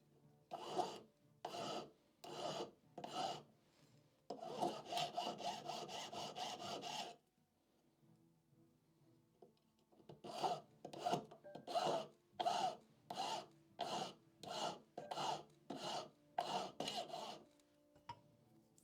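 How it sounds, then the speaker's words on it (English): A hand file works a piece of silver in quick, close, rhythmic rasping strokes, grouped in bursts with a longer continuous scrape and a quiet pause partway through. "Somehow I think I'm filing right now in the wrong direction, am I?"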